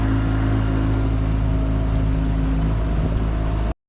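A Yamaha outboard motor drones steadily on a salmon fishing boat, a loud continuous low hum with wind and water noise, cutting off abruptly at the end.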